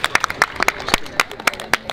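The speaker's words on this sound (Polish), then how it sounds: "Wielkie brawa pierwsze dla tej asystentki" A small audience at a street magic show in Poland claps for the magician's assistant, giving a brisk, uneven run of close hand claps.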